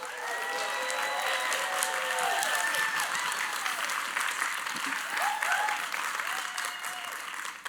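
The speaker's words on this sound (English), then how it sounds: "Ladies and gentlemen, round of applause for John Ulsh." Sustained audience applause after a keynote speaker is introduced at a TED talk, steady clapping from a large crowd for about eight seconds, with faint voices and whistles over it before tapering off at the end.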